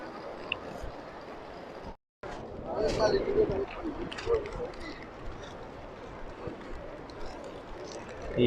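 Pigeons coo faintly at Pigeon Chowk in Mecca during the Hajj season, soft bird calls scattered beneath someone talking and the busy murmur of a crowded open square.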